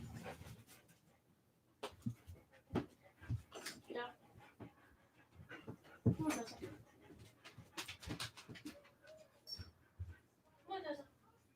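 A dog whimpers and pants close by in a quiet room, the soft whines and breathy huffs coming in scattered bursts with some faint background talk.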